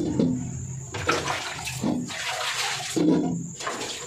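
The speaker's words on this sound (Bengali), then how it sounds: "বাইরে তো বাসন ধোয়া যাবে না, তাই বাথরুমে ধুলাম।" Dishes being washed under running water in a bathroom, pots from cooking and plates from lunch, with a steady loud rush of water broken by intermittent splashing and clatter.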